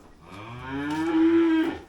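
A dairy cow gives a single loud, drawn-out moo that swells and holds steady near the microphone before tapering off, with no talk over it.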